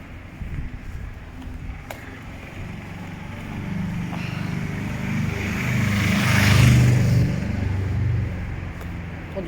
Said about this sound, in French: Ils font du bruit les voitures.